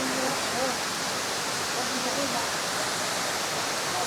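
A resort waterfall gives a steady, even broadband rush of falling water, constant and moderately loud throughout with no talking.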